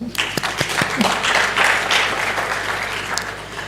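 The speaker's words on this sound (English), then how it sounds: "Thank you, Honorable Minister, for coming. Please, a round of applause." An audience at a national development report launch in Nigeria applauds the honorable minister, a burst of scattered claps swelling into steady mid-level applause in a large hall before gradually easing off.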